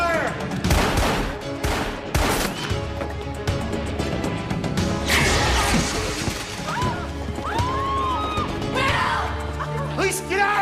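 Gunfire bursts and crashes ring out during a police shootout, with sharp repeated impacts and rapid volleys over several seconds. Shouting voices mix in with the shots.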